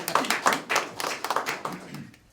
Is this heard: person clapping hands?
yes